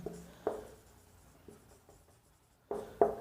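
Chalk or marker writing trigonometry abbreviations on a board, short scratchy strokes in a few bursts with soft pauses between them, close and fairly quiet.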